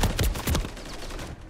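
Rapid bursts of assault rifle fire from Call of Duty crack loudly in a quick cluster over the first half second, then lighter shots and echoing battle noise trail off.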